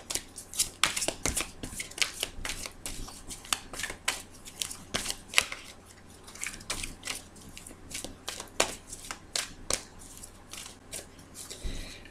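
Oracle cards are shuffled and cut by hand, giving a steady run of soft, quick riffling flicks and taps up close, quiet and without talk.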